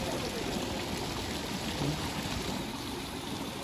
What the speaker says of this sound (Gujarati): આ પૂતળા રહ્યા એ પાણીની ધાર કરે છે જુઓ